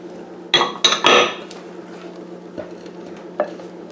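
A utensil mixes coconut cream into cake batter in a bowl with a few loud clinks and scrapes against the bowl side, followed by softer occasional taps. A steady low hum sits underneath.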